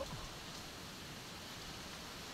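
Steady rain falls with a soft, even hiss during a ride on a Suzuki Burgman Street scooter up toward Mount Samat in Bataan, faint and continuous with no voices.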